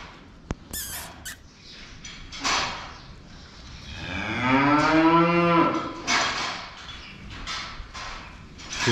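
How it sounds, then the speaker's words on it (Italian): A cow moos once in a long, drawn-out, fairly close call over a faint outdoor background, with other small rustles and clatters of a farmyard with calves around it. "Hai paura della mucchina?"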